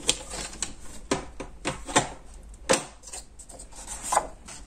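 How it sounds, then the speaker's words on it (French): Card paper being creased along a fold for a handmade pull-tab birth card, heard as a series of dry scraping rubs and light taps at close range, uneven in rhythm, with no talking. "Je marque le pli."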